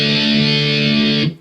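Distorted electric guitar playing a palm-muted riff: a steady, chugging sustained tone, loud and close, with no talking, before it cuts off at the end.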